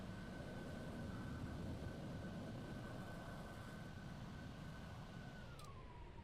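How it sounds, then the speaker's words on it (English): Lockheed Martin F-35B jet engine at full power with afterburners lit, a loud, steady roaring rush from inside the aircraft with a sustained tone that dips near the end. "Full power. Afterburners on, no warnings."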